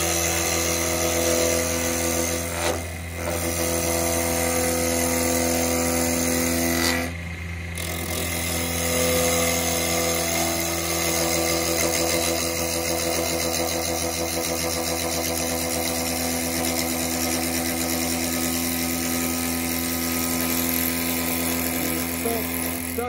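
A wood lathe spins steadily while carbide and traditional tools cut a small wooden pot, giving a continuous whirring, scraping hum with brief dips where the cut pauses, sounding close and fairly loud.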